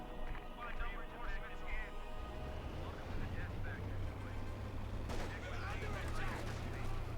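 A tank firing APCBC shells in Company of Heroes 2 is heard as a sharp shot under steady battlefield rumble, mostly masked by continuous commentary voices.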